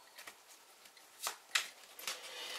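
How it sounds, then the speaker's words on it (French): Oracle cards riffled and shuffled by hand in a quiet room, a few soft brushing bursts and crisp flicks spread over under three seconds, close and fairly faint, with no talking. "Nous allons tirer une petite carte de la mission de vie, l'oracle de la mission de vie,"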